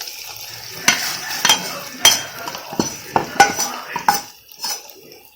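Tempering with curry leaves is stirred into temple-style venpongal in a pot, giving repeated metal spoon clinks and scrapes against the vessel in an irregular rhythm, close and fairly loud, with no talk.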